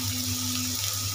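Water running from a kitchen tap while rice is being prepared: a steady, close, hissing stream that fills the whole moment without a break.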